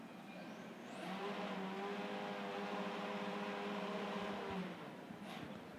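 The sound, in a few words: F4 race car engines warming up, Sepang circuit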